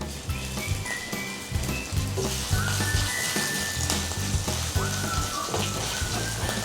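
Cumin seeds and chopped ginger sizzle in hot oil in a pan while making chana chaat, a steady crackling hiss that runs throughout over a low, rhythmic background.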